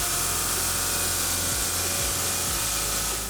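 A Park Sawjet XP saw cuts countertop stone in a fabrication shop with a steady, loud, dense whine and hiss of blade and water spray that barely changes.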